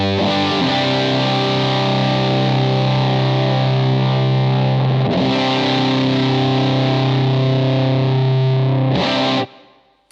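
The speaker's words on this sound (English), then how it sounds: "That just sounds like you playing a chord in a distorted amp." Guitar chords ring through the overdrive channel of a Humboldt Dumblifier, loud and thickly distorted, with long sustained strums, a restrike around the middle and a final short chord before it cuts off.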